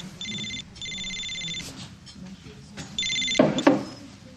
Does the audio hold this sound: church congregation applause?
no